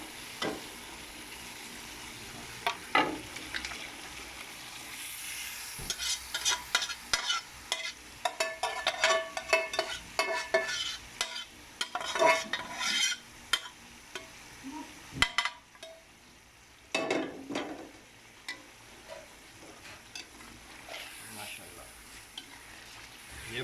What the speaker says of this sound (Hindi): अब इसमें हम गोश्त जो उबाल लिया था वो ऐड करेंगे